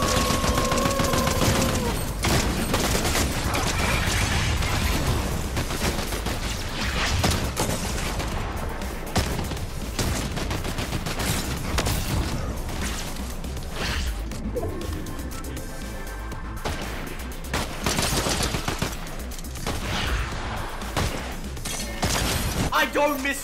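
Gunshots during a Fortnite match, a dense continuous run of shooting and impacts with a few louder bursts near the end. Excited voices talk over the gunfire the whole time.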